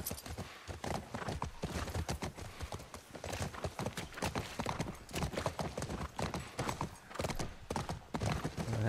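Horse hooves in The Last of Us video game, a fast, continuous clip-clop close by with a few faint snorts and whinnies over a busy background.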